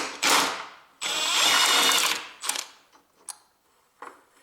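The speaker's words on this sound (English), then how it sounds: "I can open this bolt nicely" A ratchet wrench with an extension loosens a bolt on a Toyota Prius hybrid converter, 1.5 engine, 2002 to 2009, giving close metallic clicking and grinding bursts followed by a few sharp taps and clinks.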